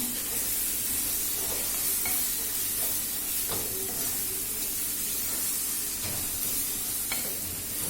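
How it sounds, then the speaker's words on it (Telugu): Masala for prawn curry frying in a pan, a steady loud sizzle with intermittent scraping stirs close up, continuous throughout. "మసాలా కూడా బాగా వేగాలి, లేకపోతే పచ్చివాసన వస్తుంది కదా"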